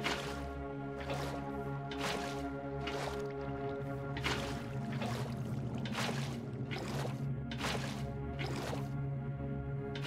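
Flowing water in the Minecraft video game, a steady looping gurgle with rhythmic splashing surges repeating about every second, even and continuous, no talking.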